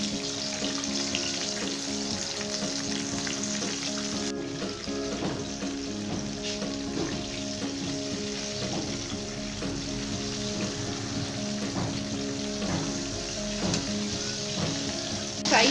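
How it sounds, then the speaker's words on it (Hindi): Chicken leg pieces deep-frying in hot oil for crispy spicy fried chicken give a steady, close sizzle and bubbling that holds throughout, with light stirring, and no voices. "चिकन का एक एक लेग पीस उठाएंगे और ऑयल के अंदर रखेंगे। लाइट गोल्डन कलर आने तक फ्राई करेंगे।"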